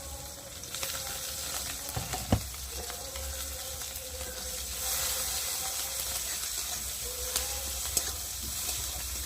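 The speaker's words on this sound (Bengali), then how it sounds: "পেঁয়াজটা একটু ভাজা ভাজা হয়ে এসেছে" Chopped onion and green chillies frying in oil for a rohu fish curry, a constant sizzle close by, broken by a few spatula scrapes and knocks against the pan.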